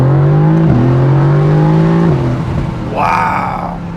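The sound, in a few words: Mercedes-AMG GT C V8 accelerating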